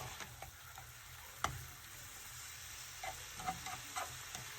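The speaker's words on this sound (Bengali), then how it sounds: "এখন একটু ভাজা ভাজা করে মশলা দিব" Garlic and sliced onion fry in a pan for a garlic mushroom dish, making a quiet, steady sizzle punctuated by a few sharp ticks and light stirring clinks, close and alone.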